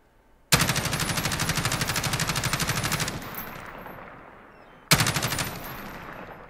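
An MG433 machine gun in Call of Duty Modern Warfare fires a long, loud, rapid sustained burst for about two and a half seconds, its echo trailing off, then opens up again in a second burst near the end.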